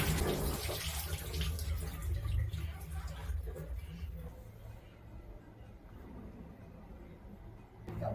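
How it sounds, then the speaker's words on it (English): Bananas rinsed under a running kitchen tap, a continuous splashing rush of water that is close and fairly steady, with faint background rumble. "and then I'm going to give them a good rinse, and then I'll set them aside"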